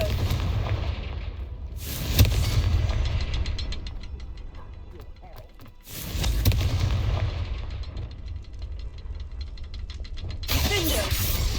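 Confringo fire curse explosions in Hogwarts Legacy, several loud booming blasts with rumbling tails and crackling bursts spread across the stretch, mixed with game sound effects and voices.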